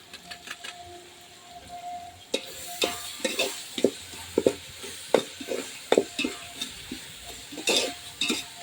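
Biryani masala for chicken biryani sautés in a pan, with a soft sizzle under irregular scraping and clinking strokes of a spoon stirring against the metal.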